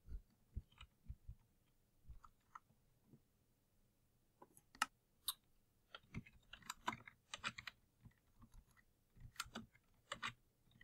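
Keys clack unevenly on a new computer keyboard, with quiet, close taps in scattered bursts and a few sharper clicks.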